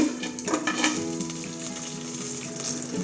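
Cashews sizzle and fry in hot oil in a pan while cooking pongal: a steady, dense crackle holding the same level throughout, close and fairly loud, with no talk.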